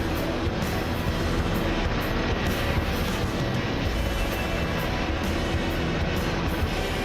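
Aircraft engine roaring steadily as the plane climbs in a combat flight video game, a loud continuous broadband drone with no breaks.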